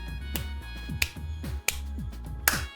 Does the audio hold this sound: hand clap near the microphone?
yes